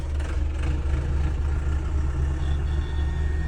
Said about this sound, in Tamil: இந்தா போது பாருங்க, ஃபாரஸ்ட் வண்டி இது.